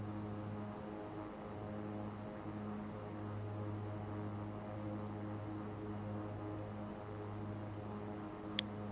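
King Air 350 turboprop in the X-Plane 11 flight simulator with propellers pulled back, a steady droning cabin hum with constant tonal layers throughout and no talk.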